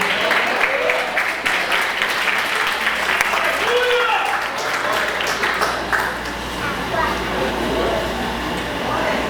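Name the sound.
congregation applauding in church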